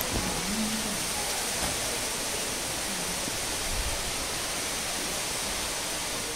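Rain falling at the old Shirdi heritage village, a steady, even hiss of drops filling the whole scene with no voices.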